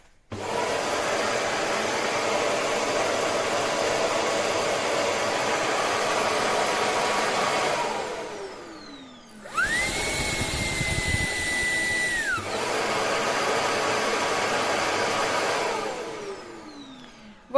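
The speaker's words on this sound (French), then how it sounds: "là je pense qu'il est en mode aspiration" A Shark PowerDetect cordless vacuum settles into its auto-empty base, a steady loud motor whir that cuts out, then a higher whining suction burst from the base before the motor hum resumes and winds down.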